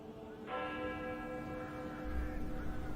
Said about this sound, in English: The dead bell tolled as I walked back through the chill and past the kitchen garden.